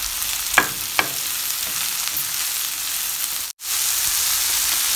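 Holy basil and mushrooms stir-frying in a hot pan give a steady, loud sizzle with two sharp clinks of a utensil early on and a brief cut-out before the sizzle resumes; no one speaks.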